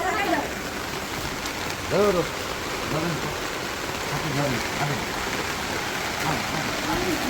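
Steady rain hisses throughout while several voices call and shout over it.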